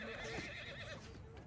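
Horse neighing in the battle game Mount & Blade II: Bannerlord amid rain of arrows, a quivering whinny heard under dense game noise and voices.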